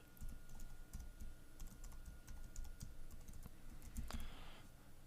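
Fingers type a name and password on a computer keyboard, giving a run of quick close key clicks over a low background hum, with a small burst near the end.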